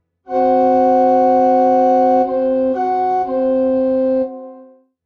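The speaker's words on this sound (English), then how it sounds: "The tritone has an eerie, dissonant sound." A tritone rings out on a sustained, clear instrument tone, two notes alternating in a few held steps before fading to silence.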